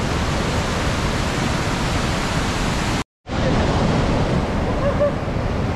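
A rushing, turbulent mountain river on the trek from Govindghat to Ghangariya roars as a loud, continuous broadband wash close by. The sound cuts out for a split second in the middle, then the torrent resumes.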